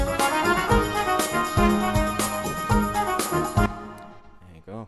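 A horn section plays a loud, dense passage within a full song mix, with steady brass blasts over drums before the level drops away near the end.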